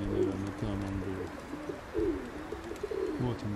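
Pigeons coo in steady, repeated low rolling phrases from nearby birds, fairly soft against a light background hiss.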